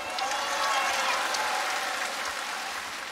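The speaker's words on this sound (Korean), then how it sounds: "후보자에게 박수 주세요." An audience at a televised outdoor singing contest at a Seoul market applauds a contestant, a steady, dense wash of clapping sustained evenly, with faint crowd voices beneath.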